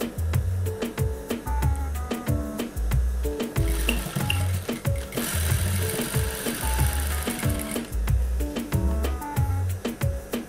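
A sewing machine runs steadily while stitching a two-colour tunic, with a rapid, even mechanical rhythm of needle strokes that stays loud and close throughout and has no voices over it.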